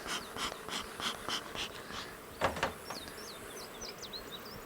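Agitated honey bees around a beehive super: a faint, patchy buzzing with short whining zips of bees flying close, over a low background rumble and a few soft knocks.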